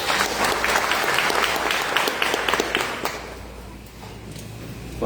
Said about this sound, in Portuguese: Se quiser, pode dar aplauso a Jesus, se você puder.